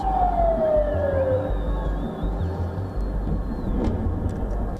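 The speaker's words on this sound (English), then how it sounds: "Sirens wail across cities" Air-raid sirens wail with a descending pitch sweep over a loud, dense rumble of low noise, with another faint siren tone higher up, during an Iranian missile attack on Israeli cities.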